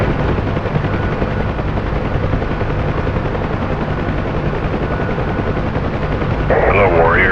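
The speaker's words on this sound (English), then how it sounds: "What are these cover helicopters with you?" Steady, loud rotor drone of a UH-1H Huey helicopter in a combat flight simulation, filling the whole stretch with dense churning noise, a brief higher warbling sound entering near the end.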